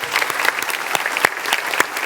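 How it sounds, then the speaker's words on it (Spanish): A church congregation applauds for a couple of seconds, a steady dense patter of many hands clapping at close range, fairly loud. "Vamos a dar un aplauso al Rey de Gloria."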